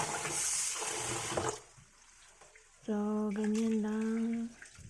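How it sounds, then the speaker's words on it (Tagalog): Glutinous rice is swished and washed in water for biko, a brief loud sloshing splash at the start, followed by a short quiet pause and then someone speaking. "Huhugasan natin ang ating malagkit."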